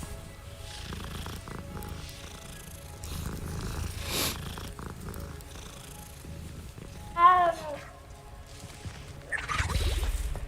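A cat purrs steadily as it is petted in a Harry Potter game, a soft rumble running under game music and effects, with a brief chirpy sound partway through.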